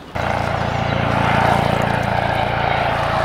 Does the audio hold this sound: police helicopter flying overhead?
yes